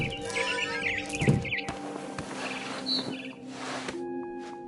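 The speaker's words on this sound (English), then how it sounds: "It was a barn swallow going back to her nest." A barn swallow chirps in the game What Remains of Edith Finch, with quick bright tweets early on, then scattered calls over game ambience and music.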